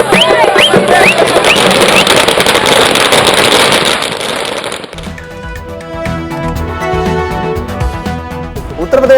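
Firecrackers burst at a party celebration outside Anna Arivalayam, a dense crackling barrage filling the first half before giving way to music and crowd noise.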